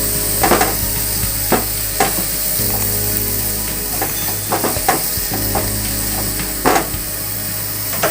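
Mango ladoo mixture with cardamom powder is stirred in a hot pan, a continuous soft sizzle broken by irregular scraping knocks and clicks of the spoon against the pan, close and clear with no voices.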